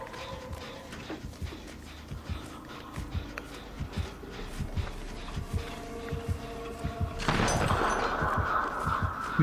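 The Deathslinger's gun in Dead by Daylight fires with a sharp burst near the end, following a stretch of rhythmic thuds and footsteps amid faint game ambience.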